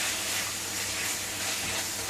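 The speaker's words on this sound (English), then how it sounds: "As soon as you stop hearing that sizzle" Steady, close sizzling of chicken frying in a hot pan for chow mein, a dense crackling hiss with no talking.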